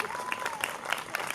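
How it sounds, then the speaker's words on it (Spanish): Applause from an audience at a town hall presentation of a municipal LGBTI+ office in Burlada, heard as a brief, fairly soft patter of clapping with a voice faintly present. "Un fuerte aplauso."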